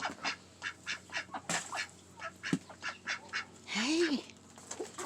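Ducks quack repeatedly on a farm in cold, icy weather, a quick chattering series of calls with a longer honking call near the end, heard at moderate distance.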